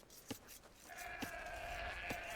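Faint sheep bleats come from a video game Age of Empires match on Xbox, with a drawn-out bleat over soft background game ambience and a few quiet clicks.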